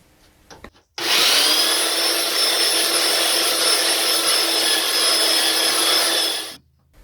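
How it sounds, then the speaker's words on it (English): A belt sander faces off a chunk of scrap-wood mosaic bowl, starting abruptly into a loud, steady high-pitched whine and grinding rush that holds for over five seconds before cutting off. "we're going to need to face it off with a belt sander"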